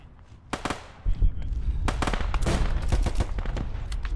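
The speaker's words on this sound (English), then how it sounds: "We're getting shot at my friends." Gunfire in a WWII video game set in Stalingrad: dense bursts of rifle and machine-gun shots crack repeatedly over a low rumbling battle din, loud and near, with irregular volleys throughout.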